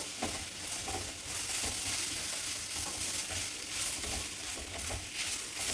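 A brinjal tempering is stirred in a pan on the stove, with a steady sizzle of frying and repeated scraping strokes of the spoon, close and continuous, with no talking.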